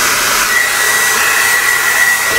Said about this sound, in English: I have to talk over my hair dryer